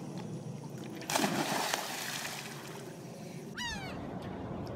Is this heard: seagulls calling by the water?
yes